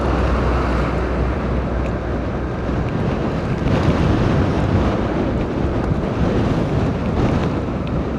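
Strong wind buffets the microphone while travelling along the Pantura road in Majalengka, a steady loud roaring rumble that fills the whole stretch with gusty low-frequency pounding and no voices.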